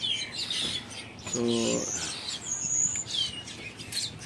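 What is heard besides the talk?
birds chirping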